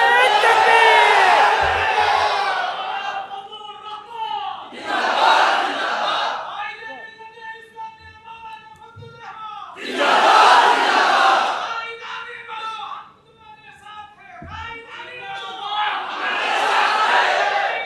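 At an Islamic conference, a large crowd chants slogans in loud call-and-response waves: a lead voice calls out and the mass of voices roars back, repeating several times.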